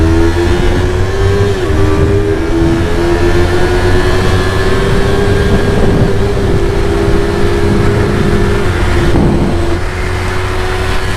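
A Yamaha R3 motorcycle accelerates hard, its engine a loud, steady high-pitched drone with a rising pitch that dips briefly near the end at a gear change, heard close and continuous with no talking.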